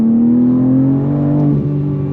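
A BMW M4 CSL accelerates hard on throttle, its engine note climbing steadily in a loud, close drone before a brief dip as it shifts, then pulling on.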